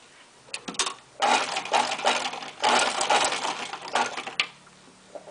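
A sewing machine stitches the front and back pieces of a pair of shorts together along their seams, running in several bursts of rapid mechanical clatter separated by short pauses, close by and without talk.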